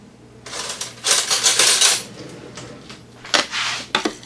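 Dry biscuit ingredients are stirred in a bowl for homemade biscuits, producing bursts of scraping and clinking, busiest in the first half and then in short strokes near the end, close and moderately loud with no talking.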